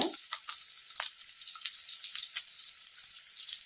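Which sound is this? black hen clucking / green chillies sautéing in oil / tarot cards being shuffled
green chillies sautéing in oil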